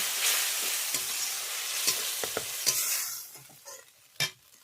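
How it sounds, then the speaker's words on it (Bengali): Masala spices being stir-fried in a pan with a splash of water while preparing river rui fish in mustard oil curry, a steady sizzle broken by several sharp scraping stirs, louder at the start and easing off toward the end. "এরপরে আমি দিয়ে দিচ্ছি অল্প করে জল এভাবে মশলাগুলো কষে নেব"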